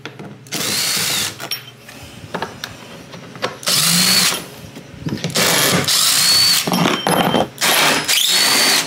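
A power drill with a T50 bit removes the bed cover brackets on a Honda Ridgeline, loud close bursts of whirring drive separated by short pauses and ratcheting clicks, repeating across the whole span.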